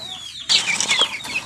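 A pigeon's wings beat in a sudden close burst of flapping after a brief quiet moment, fluttering loudly for about a second.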